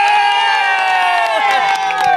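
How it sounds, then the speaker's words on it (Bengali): A crowd cheers and claps for a buyer who has booked camel meat at a stall in Bangladesh. The burst of voices and clapping is loud and close, sustained over a steady din. "ভাইয়ের জন্য একটা হাততালি হয়ে যাবে"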